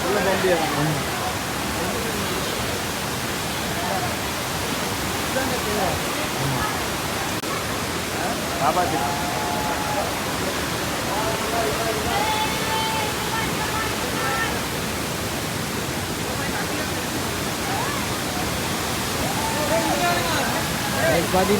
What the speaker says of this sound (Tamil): water falls உல்பனி water falls